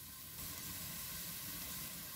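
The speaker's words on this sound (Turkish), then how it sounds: "Soğanları yakmadan rengi dönene kadar soteleyelim." Onions sauté in a pan while making a sucuk and dried bean stew, giving a steady, close sizzle and hiss that swells slightly a moment in and then holds evenly, with no voices.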